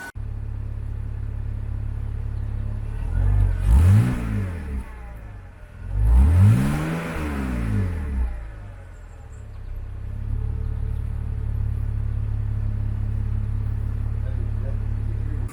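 A car engine fitted with a newly installed cold air intake revs twice on a test drive, each deep rising roar falling away, then settles into a steady low rumble of cruising.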